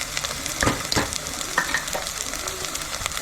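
Turmeric and garam masala fry in a hot pan for mutton curry, a steady close sizzle broken by several loud scraping stirs of a spoon, with no voices.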